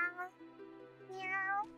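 A cat in the Wylde Flowers video game gives two soft, close meows, a short one and then a longer drawn-out one, with no talking.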